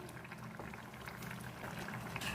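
Paneer curry simmering in a pan, a steady close bubbling and gentle sizzling that continues throughout without a break.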